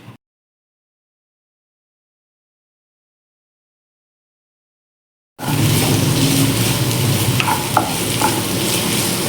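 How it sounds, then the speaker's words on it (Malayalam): Chopped onions dropped into two spoons of hot oil in a pan for chicken thoran, giving a loud, steady close-up sizzle with occasional stirring scrapes after a long stretch of near silence. "2 സ്പൂൺ ഓയില് പാനിൽ ഒഴിച്ച് ചൂടാകുമ്പോൾ ഈ അരിഞ്ഞു വെച്ചിരിക്കുന്ന ഉള്ളി അതിലേക്കിട്ട് മൂപ്പിക്കണം"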